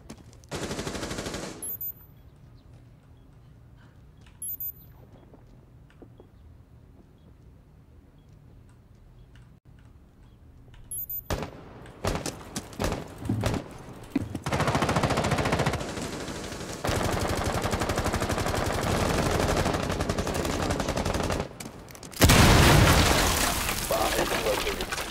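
Bursts of rapid gunfire in Rainbow Six Siege crackle after a quiet stretch, with sharp clicks early on and dense sustained shooting in the second half.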